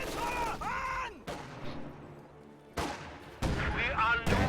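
Gunfire and rifle grenades from a grenadier squad in a military strategy game, sharp bursts and explosive thuds separated by quieter gaps, with talk over parts of it.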